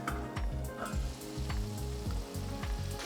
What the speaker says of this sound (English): So now we let the tomatoes cook along with the spices, and we cover and cook for 5 minutes.